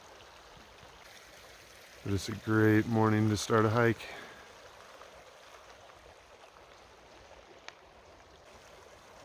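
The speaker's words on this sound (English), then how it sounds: "It's Tuolumne River right here." A steady, rushing flow of the Tuolumne River in Yosemite runs throughout, with someone speaking briefly over it near the start.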